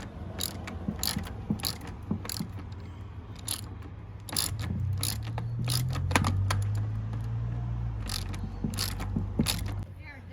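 A RockShox Pike fork cap being tightened back down with a ratchet tool, crisp repeated clicking bursts up close over a low rumble of handling.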